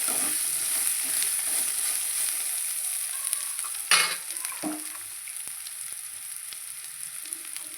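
Long-cut brinjal pieces, soaked in salt water, frying in a pan, with a steady close sizzle and occasional scraping stirs, including one loud clattering scrape midway.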